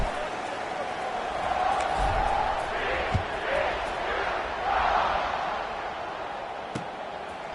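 A football stadium crowd at a TCU versus NC State game buzzes after a score, a broad, continuous roar with swells and scattered shouts, overlaid by close play-by-play commentary.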